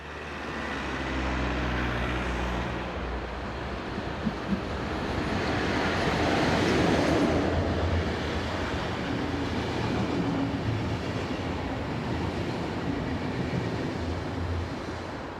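A Swiss passenger train from Basel to Locarno runs south on the Gotthard south ramp behind an electric locomotive. A broad, steady rumble of wheels and motors rolls past at moderate distance, swelling slightly in the middle with no talk.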